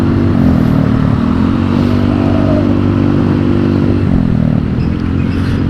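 A Yamaha Mio M3 four-valve scooter engine runs loud and close, holding a steady droning tone that shifts in pitch as the throttle is worked, with a brief dip near the end, and no one talking.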